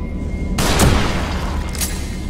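A sharp gunshot bang cracks out amid a dense, continuous wash of game noise in The Evil Within, followed by a second fainter crack; no one speaks.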